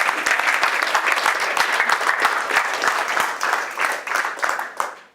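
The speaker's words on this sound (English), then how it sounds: "so you can applaud Sandrine" Audience applause at a coding bootcamp demo day in London, a dense, steady burst of many hands clapping that carries on for about five seconds before fading at the end.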